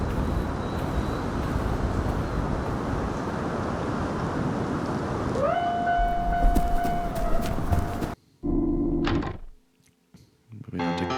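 A video game train passes a level crossing: a steady rumbling drone runs first, then a rising tonal whine joins, then the sound cuts off into short bursts separated by near-silent gaps.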